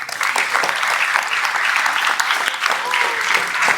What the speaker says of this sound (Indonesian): Tepuk tangan sekali lagi buat 21 orang